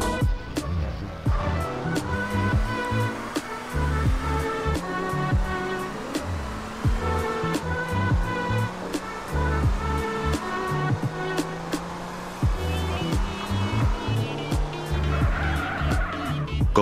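Engine of a modded DeLorean driving in GTA San Andreas, a steady loud revving drone with shifting pitch, tyre squeals and skids, and repeated sharp clicks and thumps, with music-like tones running underneath throughout.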